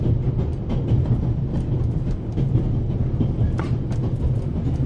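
Steam-era Orient Express train running from Paris to Istanbul in a video game: a steady, close rumble of rolling carriages with scattered clicking from the wheels, continuous throughout.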